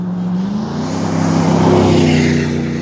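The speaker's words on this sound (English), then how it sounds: "that was a truck" A truck drives past on Rogue River Drive at the top of a rural driveway, its engine rumble rising and holding loud and close for about three seconds as it goes by.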